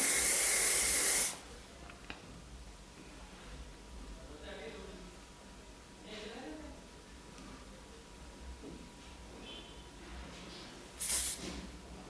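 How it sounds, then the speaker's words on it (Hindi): Hair spray misted onto styled hair during a bridal hairdo, a loud hiss in the first second and another short burst near the end, with quiet rustling between. "जो भी एक्स्ट्रा हेयर है आपको नज़र आ रही है तो आप स्प्रे करके उनको बिठा सकते हैं"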